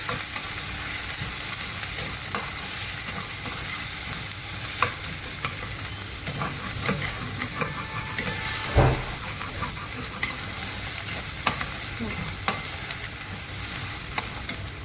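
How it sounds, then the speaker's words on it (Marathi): Ginger and garlic sauté in oil in a pan, giving a steady soft sizzle with occasional scrapes and clinks of a stirring spoon throughout. One louder knock sounds partway through. "त्याच्यामध्ये मी हे अद्रक लसूण वगैरे टाकते, त्याला छान परतून घ्यायचा"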